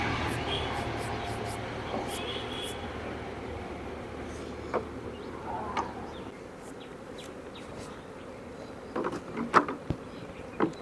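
Honey bees at a bee farm with stacked single and double hive boxes, heard as a steady low droning hum across the whole stretch, with a few faint knocks and brief sounds near the end.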